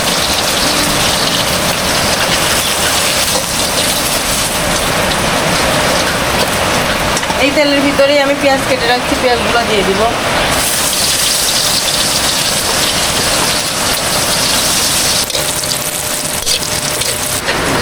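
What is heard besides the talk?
heavy rain falling outside while cooking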